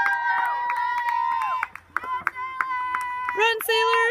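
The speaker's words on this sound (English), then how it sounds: "A lot of cheering." People cheer, whoop and clap during a base running drill, with shrill excited voices and scattered handclaps rising and falling nearby, mixed with shouted talk.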